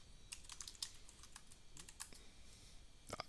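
Typing on a computer keyboard: a quick run of sharp, close key clicks in irregular bursts, faint overall against a quiet background, with no talk.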